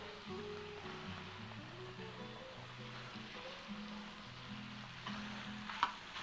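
Peppers cooking in a pan with chicken, a quiet, steady sizzle in the background under low murmuring tones, with a small clink near the end.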